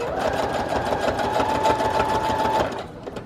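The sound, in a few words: sewing machine stitching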